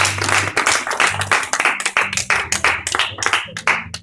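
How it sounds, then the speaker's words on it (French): A church congregation claps loudly in unison, steady rhythmic claps close by that fill the whole stretch, with light applause mixed in. "Est-ce qu'on peut acclamer la parole de Dieu?"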